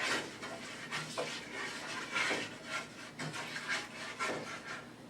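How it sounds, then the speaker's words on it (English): A scraper stirs Sichuan chicken stir fry in a pan, making repeated rough scraping strokes against the metal at an uneven rhythm, close and moderately loud with no talking. "Use my scraper to stir it up a little bit"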